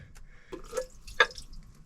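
Water dripping inside a 37-year-old boat, a few faint, sparse drips and small splashes landing in a quiet, enclosed space with no talk.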